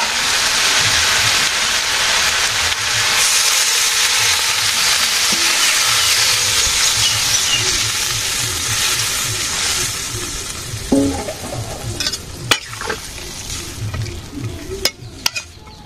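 Silver carp curry with fried cauliflower cooking in a village kitchen: steady loud sizzling and bubbling with stirring, then broth poured in, the sizzle easing into scattered clinks and sharp utensil knocks near the end.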